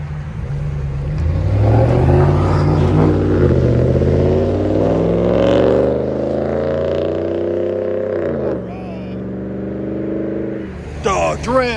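Ram 1500 pickup with a 5.7L Hemi V8 and Flowmaster Super HP2 muffler exhaust, a loud, close engine rev that rises in pitch, holds, then drops back to idle, with a voice talking over it.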